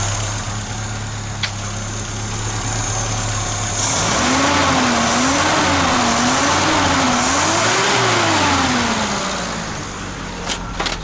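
A Peugeot 505 2.0 engine fitted with a double barrel carburettor conversion idles, then is revved up and down several times in rising and falling swells, close and loud, before settling back toward idle.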